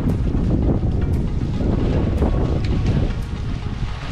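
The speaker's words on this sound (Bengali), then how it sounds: "এখানে অনেক বাতাস" Strong wind by the Boral and Guman rivers roars steadily across the microphone in a dense, loud rush, with faint rumbling from the open water behind it and no voices.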